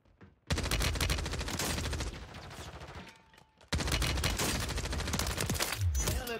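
Gunfire in Warzone on Rebirth Island, two long, loud bursts of rapid automatic fire close by, separated by a short drop in level, with a low thud near the end.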